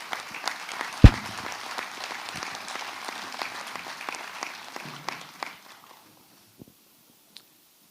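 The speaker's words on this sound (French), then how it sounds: "On peut l'applaudir." An audience at a French intercommunal council installation meeting applauds a newly elected member, brisk clapping from a modest room with one sharp close clap, fading out after about five seconds.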